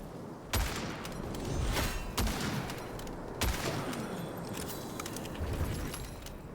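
Rifle fire in the dark fantasy shooter Witchfire: several sharp, separate shots spaced a second or so apart, punchy and close, over a steady background wash of game ambience.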